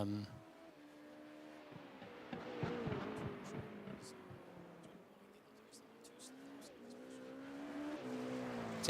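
LMP2 and GTP prototype race cars in a racing video game at the Zolder circuit, engines revving and shifting through a chicane, rising and falling pitch with tire noise, under a commentator's talk.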